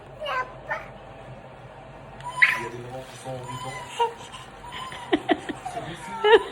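A cat meows repeatedly at close range, several drawn-out cries spread through the stretch, mixed with a voice, adult chatter and soft laughter indoors.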